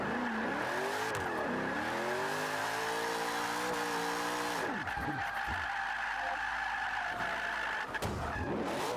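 Nissan Fairlady Z rear-wheel-drive drift build in Forza 5, engine revving hard and rising through gears while tires squeal continuously through slides, loud and sustained with shifting pitch.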